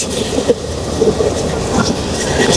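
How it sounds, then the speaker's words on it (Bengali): The Joyantika Express rumbles along from Dhaka toward Sylhet, a steady loud rolling roar inside the carriage with light rhythmic wheel clacks and occasional squeaks, in rainy weather. "আমাদের ট্রেনটি এখন আড়িয়ালখা স্টেশন তুরুপথ যাচ্ছে"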